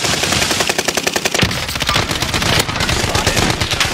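Rapid automatic gunfire in the video game Warzone, loud and close, with dense bursts of shots rattling almost continuously for several seconds with a brief pause partway through.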